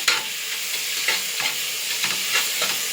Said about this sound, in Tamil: இந்த ஸ்டேஜில் தக்காளி போட்டுக்கிறேன்